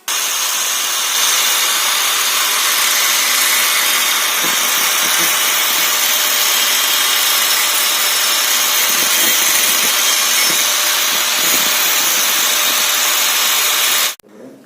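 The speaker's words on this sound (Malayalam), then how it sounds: "ആദ്യം നമുക്ക് ഈ ഇരുമ്പിൻ്റെ ആംഗ്ലയറിനെ കട്ട് ചെയ്തെടുക്കാം." A power tool cuts through an iron angle bar in a steady, loud, continuous grinding whine that runs almost fourteen seconds before stopping abruptly.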